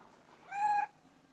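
A cat gives a single short, clear meow close by in a quiet room, with no talk over it.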